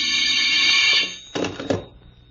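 A telephone bell rings in an old-time radio drama, a bright, insistent ring lasting about a second, followed by two short knocks as the receiver is handled.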